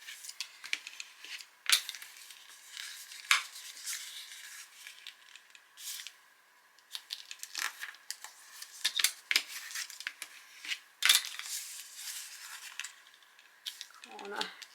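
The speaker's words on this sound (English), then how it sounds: "we're going to fold the corner to the centre" Paper is folded corner to centre while making a Christmas gift box, giving soft, intermittent creasing and rustling sounds, close and quiet, with small pauses between strokes.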